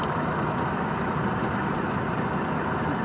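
A vehicle engine rumbles close by, steady and loud, as the vehicle drives on through a scanner gate at the Port of Cork, with no pauses and no voices.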